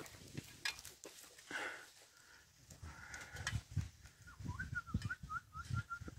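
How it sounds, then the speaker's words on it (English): A man whistles to signal a team of oxen pulling a plough in an open field. The whistling is short and warbling, rises and falls in quick repeated notes, and sits over faint outdoor noise and footsteps. "That whistling makes them to stop."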